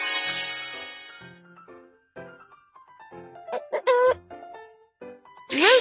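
A rooster crows loudly, ringing out in a quiet scene of the mobile game Baby School Bus, with a few soft electronic tones and blips around it, then a second bright burst at the end.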